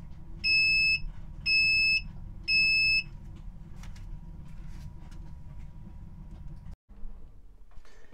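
Security camera recorder intrusion alarm sounding three loud, evenly spaced electronic beeps, each about half a second long, over a low steady background hum, then quiet.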